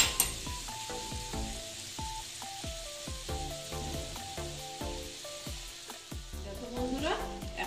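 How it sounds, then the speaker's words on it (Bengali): Jackfruit curry sautés in a pan with a close, steady sizzle, broken by frequent sharp ladle scrapes and taps in an irregular stirring rhythm, with a brief louder hiss near the end. "আমি এইভাবে কষিয়ে নিচ্ছি"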